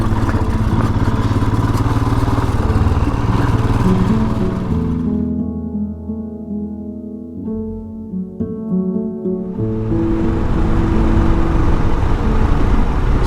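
Loud motorcycle engine droning while being ridden, with the pitch rising and falling as the machine slows and speeds up, plus heavy wind rush, no voices.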